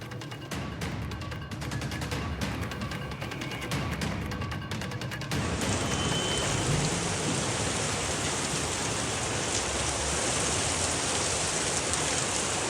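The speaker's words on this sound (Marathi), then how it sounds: "पुण्याला अवकाळी पावसानं झोडपलेला आहे" Heavy unseasonal rain pours down in Pune, a dense steady roar of rain on surfaces that thickens and grows louder partway through, with no voices.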